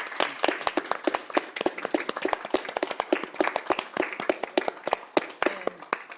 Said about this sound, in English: I just want to give you a round of applause and a standing ovation.